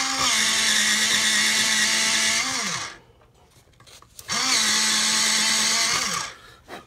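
An electric pencil sharpener whirs in two steady motorized bursts of a few seconds each, with a short pause between them, loud and close, sharpening a drawing pencil.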